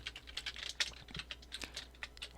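Typing text on a computer keyboard, quick irregular key clicks in a rapid patter, fairly close and quiet, with no voices.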